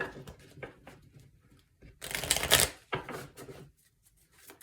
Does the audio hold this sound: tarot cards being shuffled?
yes